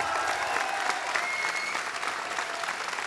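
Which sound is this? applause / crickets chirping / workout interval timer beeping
applause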